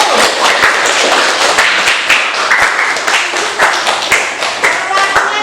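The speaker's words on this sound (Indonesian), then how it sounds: "tepuk tangan untuk kelompok 1." A classroom of students clapping for a student group, loud close handclaps in a dense irregular patter with voices talking over them throughout.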